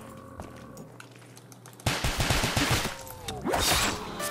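Video game gunfire aimed at breakable boxes, a quiet stretch followed by a sudden burst of rapid repeated shots and scattered impact sounds, loud and close.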